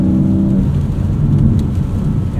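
A 2024 Porsche 718 Cayman GTS 4.0 with PDK accelerates in a loud, steady engine drone heard from inside the cabin, with a brief higher tonal note early on, amid road and tire noise.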